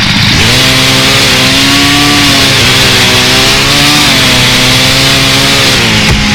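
A chainsaw revving in the survival video game Starforge, a steady loud buzzing engine drone with slight pitch sweeps, held for several seconds on its own with no talk.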